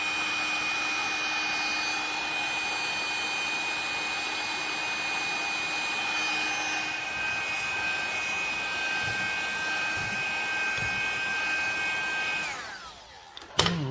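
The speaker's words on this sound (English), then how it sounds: "I think we'll get some hot air gun action on it" A hot air gun heats a stuck, broken stud on a vintage trike, blowing with a steady loud whine and whoosh for about twelve seconds. It then cuts off, followed by a brief clunk.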